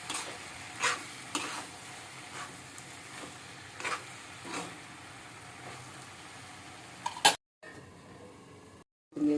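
A spoon stirs brinjal, tomato and egg curry simmering in a pan, producing soft sizzling broken by scattered scrapes and knocks that are faint and close, with brief gaps near the end.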